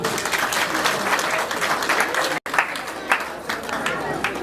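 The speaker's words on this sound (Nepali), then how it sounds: "परमेश्वरको नाममा ताली बजाइदिनुहोस्" A church congregation claps together in a sustained burst of applause. Dense, close clapping fills the space, broken by one brief gap, with a voice faintly mixed in.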